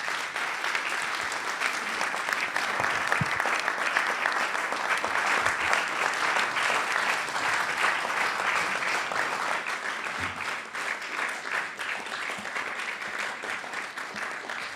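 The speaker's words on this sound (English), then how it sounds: "How about a round of applause for our speaker?" Sustained audience applause at a National Press Club event following a talk by Senator Lindsey Graham, a dense steady wash of many hands clapping that runs the whole length and eases slightly toward the end.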